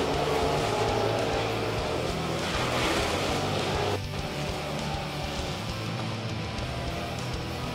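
Modified race cars run through the back stretch and corners at Ohsweken speedway, their engines a continuous rough drone with a steady engine note that dips briefly mid-way. A commentator speaks over the cars.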